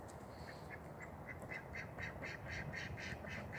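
Ducks quack in a steady run of repeated calls outdoors on a farm in the rain, close by and growing slightly louder, with no voices.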